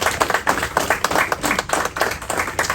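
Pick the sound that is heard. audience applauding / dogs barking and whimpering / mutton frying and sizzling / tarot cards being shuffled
audience applauding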